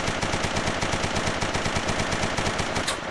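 An Uzi submachine gun fires one continuous rapid burst of evenly spaced shots, loud and close, lasting about three seconds with no talking.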